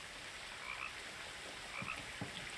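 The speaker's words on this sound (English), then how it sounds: "Frog, wherever you are, you're super loud." A frog croaks in the What Remains of Edith Finch video game, a few low rasping croaks standing out over a quiet outdoor night ambience of chirping insects.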